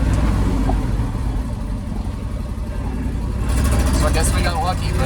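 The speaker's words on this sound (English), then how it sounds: "I'll take you all on a little drive here and we'll just see how it does." A Chevrolet C60 truck with a 366 engine drives just after a brake and master cylinder job, its loud engine rumbling and pulling steadily up close, with rising road and rattle noise near the end.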